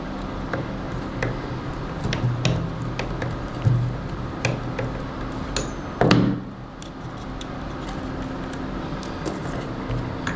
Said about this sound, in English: If your hardware gets stuck in the tool like this, just knock it a few times, it'll come out.